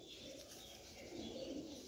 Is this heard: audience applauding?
no